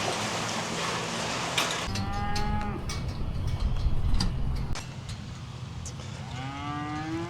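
Cattle moo repeatedly on a farm, several long drawn-out calls rising over a steady background rumble of machinery and wind, some near and some farther off.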